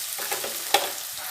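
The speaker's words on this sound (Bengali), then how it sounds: "এদিকে পেঁয়াজটা দেখুন ভাজা হচ্ছে" Steady frying hiss of onions in a pan with light stirring scrapes and one sharper clink partway through, no voices.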